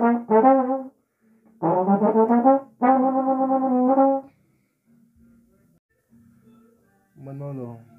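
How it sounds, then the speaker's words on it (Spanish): A trombone plays the opening of a solo in three loud phrases of detached and held notes, separated by pauses, with a softer phrase to close. "lo que llevamos hasta acá suena más o menos así"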